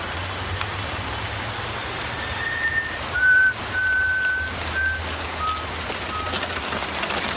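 A person whistles a few short, thin notes at moderate volume over a steady background hiss that sounds like rain, with no talking.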